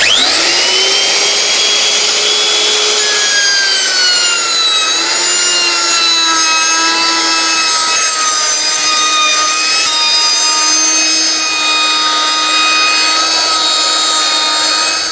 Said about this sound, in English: Keep the cutter out the way, turn the machine on, and then push the cutter into the work.